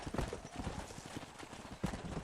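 Quiet video-game hoofbeats in Red Dead Redemption clop in an uneven rhythm, with a faint horse whinny near the end, distant and soft.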